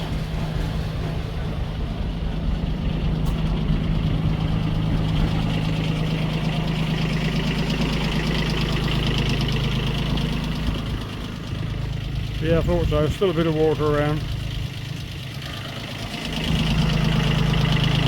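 An early Iseki four-wheel-drive diesel tractor idles with a steady knocking chug, close by, while someone speaks briefly over it.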